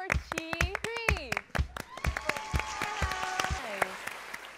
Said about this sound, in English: Give a round of applause for Chìa